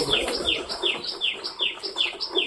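Pigeons call in a steady series of repeated coos and rolling notes, several per second, fairly close and clear against a quiet backdrop.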